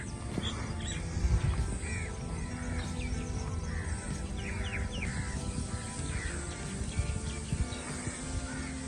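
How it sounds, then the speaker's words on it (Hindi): Crows caw repeatedly outdoors on farmland, with other birds chirping in the background over a steady breezy ambience and rustling leaves. "अभी भी आपको ये परिंदों की आवाज़ें, ये देखिए पत्ते हिल रहे हैं, मज़े की हवा चल रही है"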